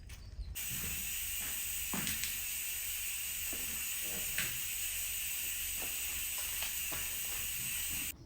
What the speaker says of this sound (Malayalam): അപ്പോൾ കുക്കറിന് വിസിലൊക്കെ വരുന്ന സൗണ്ട് കിട്ടുന്നു കേട്ടോ